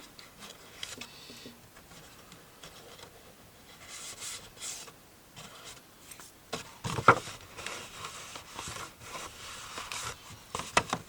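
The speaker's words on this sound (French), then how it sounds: "là on va venir marquer nos plis comme il faut" Paper being creased and pressed along the folds of a handmade pochette, heard as quiet, close rubbing and soft scraping strokes in irregular bursts, growing a little louder toward the end.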